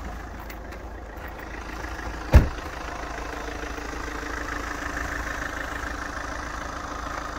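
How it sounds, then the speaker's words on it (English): A 2008 Alfa Romeo 159 Sportwagon engine idles with a low, steady hum, interrupted once by a sharp thud partway through, then continues running evenly. "let's get out and you can hear that lovely engine"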